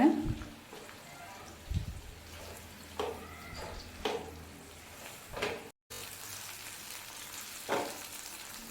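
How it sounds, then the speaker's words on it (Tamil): Brinjal pieces fry in hot oil over a medium flame, a steady soft sizzle broken by several louder bursts of stirring and clatter, with a short dropout partway through. "எண்ணெய் சூடானதும் அதில் கட் பண்ணி வச்சுருக்கிற கத்திரிக்காயை சேர்த்துக்கோங்க மீடியம் ஃப்ளேமில் வச்சு ஆறுலேருந்து ஒரு ஏழு நிமிஷம் ஃப்ரை பண்ணிக்கோங்க"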